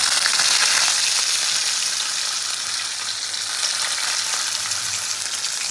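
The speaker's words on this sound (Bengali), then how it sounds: "এই তেল গরম হয়ে গেছে, তেলের মধ্যে জিরে ফোড়ন দিলাম" Cumin seeds sizzling in hot oil in a pan before fish is fried, a steady loud hiss and fine crackle that holds throughout and eases slightly midway, close and with no talk.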